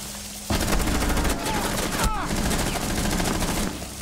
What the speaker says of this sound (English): Where is this guy that's shooting me?